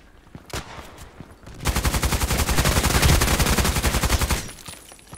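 Assault rifle fire in the shooter game Contract Wars: a couple of isolated shots, then a long sustained automatic burst of rapid, evenly spaced loud reports lasting about three seconds before cutting off.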